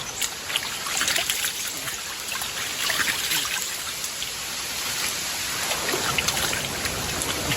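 Cool, clear water trickles and splashes continuously outdoors, a steady close patter like light rain or a small stream, with no voices.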